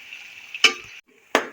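Three finely chopped onions sizzling in a pan, a steady soft frying hiss broken by two sharp bursts of stirring or scraping, close by with no talking.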